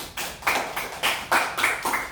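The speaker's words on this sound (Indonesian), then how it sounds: "Tepuk tangan untuk kelompok 4 dulu nak." Students in a classroom clap for a student group in short, rhythmic bursts of brisk, close clapping, with each group of claps separated by brief pauses.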